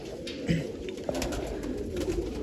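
Soft, low pigeon coos repeat a few times close by over a murmur of background noise, from pigeons in a loft being given grain and water.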